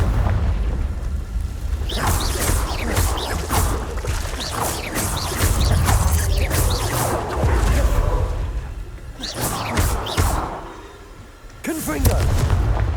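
Repeated booming blasts from the Confringo fire spell in Hogwarts Legacy, loud explosive bursts going off in quick succession with a dense rumbling low end and a brief lull before more blasts.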